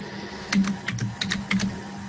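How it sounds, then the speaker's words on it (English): Someone types on a computer keyboard in a quiet room, a brief run of about eight crisp, close key clicks with uneven spacing over a low hum. "There's someone typing."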